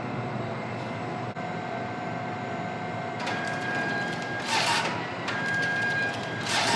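A printer at a truck weigh scale prints out a load ticket, a steady mechanical whir over a background hum, with several louder feed bursts in the second half.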